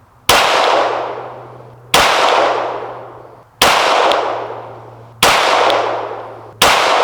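A Canik Rival pistol fires Fiocchi 115 grain 9mm rounds at just under 11 yards, five sharp, loud shots spaced evenly about a second and a half apart, each with a ringing decay from a steel target.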